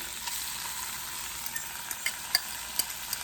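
Cod fish fries in a tablespoon of olive oil over lowered heat, giving a steady close hiss with a few small crackling pops scattered through it.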